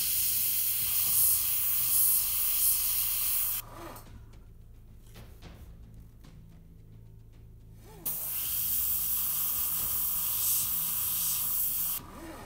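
An airbrush sprays paint for a rust weathering effect, a loud close hiss that runs for several seconds, cuts out, then starts again and runs on, with faint background sounds between the bursts.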